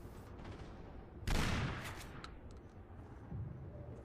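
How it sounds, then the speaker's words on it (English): A single LS13 shotgun blast in the video game Killzone 2, one loud sudden boom that fades into a short tail, followed by a fainter second shot, heard alone over low background noise. "the spread pattern of a shotgun blast is unaffected by your position"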